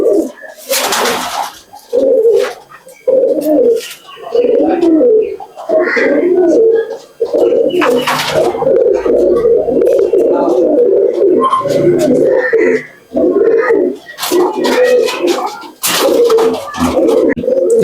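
Old-generation Madrasi pigeons coo loudly and close by in repeated throaty phrases, with short wing-flap bursts in between and occasional quiet talk.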